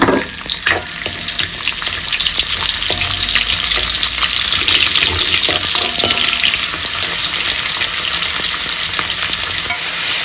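Onions frying in a pan for chicken curry, a loud steady sizzle with stirring scrapes running continuously, close and with no voices.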